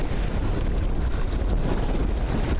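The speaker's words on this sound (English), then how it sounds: "It's still quite windy." Strong wind on a sailboat at sea in choppy water, a loud steady roar of wind buffeting the microphone with rushing water beneath, continuous and unbroken throughout.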